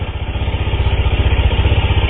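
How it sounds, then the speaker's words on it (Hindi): Exhaust of a 2022 TVS Apache RR 310 motorcycle in sports mode: a loud, close, steady idle with a deep, evenly pulsing throb, with no voices over it. "स्पोर्ट्स में ये गाड़ी प्रॉपर रोर करती है"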